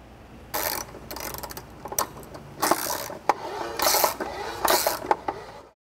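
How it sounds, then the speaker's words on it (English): A 3/8 inch drive extension turns a trailer jack gearbox by hand, giving repeated bursts of ratcheting, grinding gear clicks in uneven strokes, close and loud with short pauses between turns. "we can access the gearbox using a 3/8 inch drive extension and sliding that through the housing until it engages with the gearbox"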